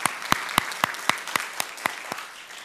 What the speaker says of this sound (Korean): 우리 하나님께 영광의 박수 다시 한번 뜨겁게 드리도록 하겠습니다